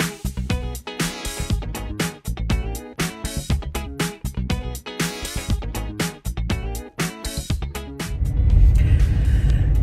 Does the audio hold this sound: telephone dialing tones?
no